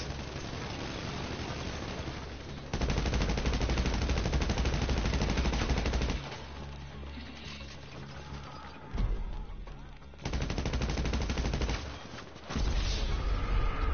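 Sustained automatic bursts from a Mark II gun in a video game, loud rapid firing in several long stretches separated by short gaps and quieter moments, no voices present.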